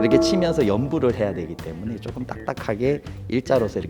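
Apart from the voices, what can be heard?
No everyday noises stand out.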